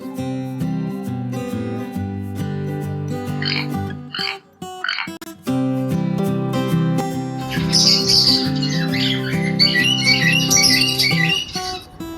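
A toucan gives short, croaking squawks in a few quick bursts, then a longer run of rough calls. Loud background music plays under them throughout.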